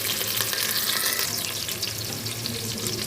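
Sliced onions, curry leaves and green chilies fry in hot oil for mutton biryani, a dense, close, continuous sizzle with no voices.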